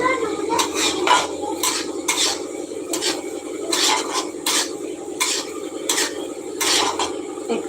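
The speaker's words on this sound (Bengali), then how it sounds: "আমি রান্না করছি রান্না করতে করতে লাইভ করছি তোমাদের সাথে" Pots, pans and cutlery clatter and scrape in a home kitchen during cooking, with sharp, irregular metallic knocks and stirring scrapes repeating throughout, close and fairly loud over a low background hiss.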